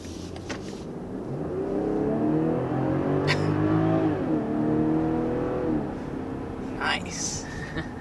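A 2023 BMW X5 luxury midsize SUV accelerates under throttle, its engine note rising through gears in a smooth whirring climb from inside the cabin, with a brief shift dip midway and a voice talking over parts of it.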